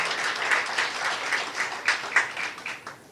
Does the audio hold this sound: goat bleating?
no